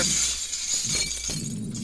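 Glass shattering in the video game Happy Wheels, loud crashing breaks with scattered tinkling shards, several bursts in quick succession over a bright, noisy background.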